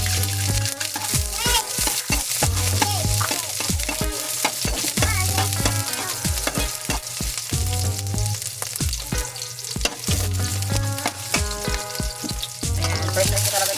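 Pakbet vegetables with shrimp paste stir-fried in a hot pan, a loud steady sizzle broken by repeated rhythmic scraping and clanking of a utensil against the pan, with no talk.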